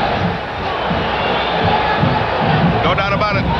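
A boxing arena crowd of about 16,000 roars and cheers steadily through a fight between Roberto Duran and Pipino Cuevas, a dense continuous wall of voices without a break.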